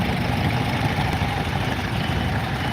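A German-built Heyser three-cylinder 2.5-litre tractor engine idles steadily at a vintage tractor parade, a loud, continuous low rumble with no talk over it.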